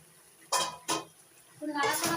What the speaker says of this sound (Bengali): এবার ঢাকা দিয়ে রাখছি দুই মিনিটের জন্য সিদ্ধ হওয়ার জন্য এবার ঢাকনা তুলে নিচ্ছি